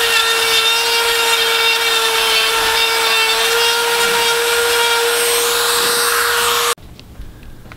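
A small Black & Decker rotary tool grinds into very hard live wood, a loud, close, steady high-pitched whine with a strong constant tone over a gritty rasp for nearly seven seconds, then cutting off abruptly.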